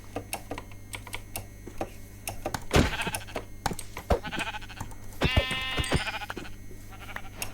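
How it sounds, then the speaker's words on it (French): Sheep bleat in Minecraft, a couple of harmonic bleats standing out over a busy bed of fast computer-keyboard clicks and game noise. "Faut un dernier mouton."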